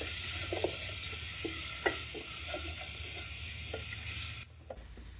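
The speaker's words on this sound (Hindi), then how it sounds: "मसाले डालने के बाद अच्छे तरीके से हम मसाले को भून लेंगे।" Spices, including turmeric, being roasted in a pan for street-style fried dal mash: a soft, continuous sizzle with occasional scraping stirs and light clicks, then a sudden drop to a quieter hiss near the end, with no voices.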